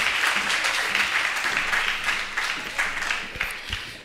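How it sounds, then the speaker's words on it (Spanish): An audience at a health marketing conference applauds to welcome a doctor to the stage, a continuous wash of many hands clapping, fairly loud and even, with slight swells. "Por favor, un aplauso."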